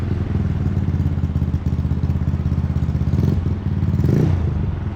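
A Yamaha Mio Amore scooter engine, restored, idles steadily nearby. The running is loud and continuous with a rough, clattery mechanical texture and a slight rise near the end. No one speaks.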